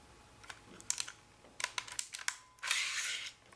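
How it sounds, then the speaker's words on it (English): Metal parts click and slide as a CyberGun Desert Eagle prototype airsoft pistol is field stripped, a close, quiet series of sharp mechanical clicks ending in a longer scraping slide. "Once we field strip this gun,"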